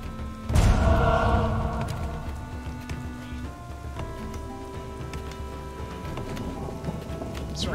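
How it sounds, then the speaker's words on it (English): A thunderclap booms early, then steady rain hisses and patters on in the video game Northgard, accompanied by faint tonal music in the background. "It's raining."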